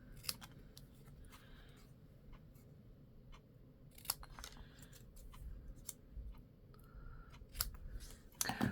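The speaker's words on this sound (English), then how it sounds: "We'll take our snips and we'll trim them down." Small metal snips trim stamped paper in a papercraft session, making quiet, crisp cuts in irregular clusters at close range.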